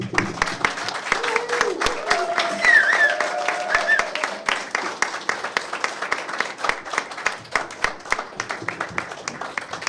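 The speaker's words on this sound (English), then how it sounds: "Applause." Audience applause at a doctoral degree award ceremony, a public defence at an art academy, with scattered claps that thin out toward the end, close and moderately loud, while voices murmur through the crowd.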